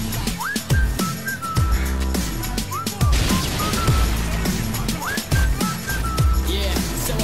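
Rising and falling whistled notes carry a tune over a loud, busy backing of music and percussive hits, with several bright whistle phrases repeating across the stretch.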